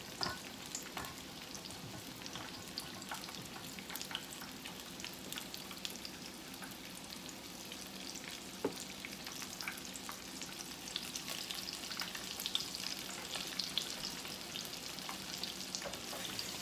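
Crumb-coated chicken pieces fry in hot oil with a steady, even crackling hiss that stays constant throughout, fairly quiet and with no voices over it.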